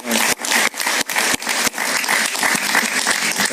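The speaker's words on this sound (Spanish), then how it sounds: "Un gran aplauso para Paciano Padrón" Studio audience applause on a Spanish-language talk show, a loud dense burst of clapping close up that dips briefly a few times and then carries on steadily to the end.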